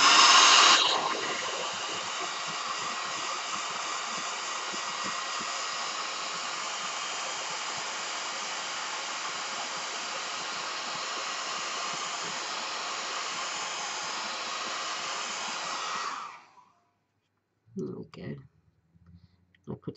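A hair dryer blows steadily up close to dry paint on a botanical line drawing, a loud continuous whooshing whir that starts with a click and runs about sixteen seconds before switching off, followed by faint rustling.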